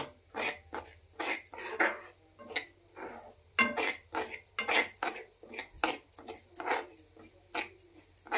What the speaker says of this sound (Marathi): हे बघा, इथं आपला रवा भाजतोय